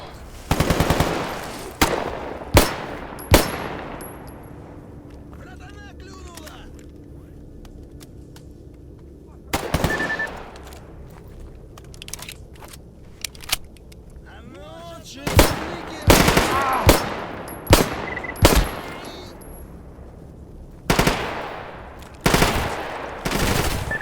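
Gunfire in the video game Stalker GAMMA during a rescue mission: scattered single shots and short bursts, some sharp and close, others fainter, spread across the clip with occasional talk.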